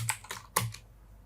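Several close, crisp clicks of keys typed on a computer keyboard come in a short uneven burst, then stop.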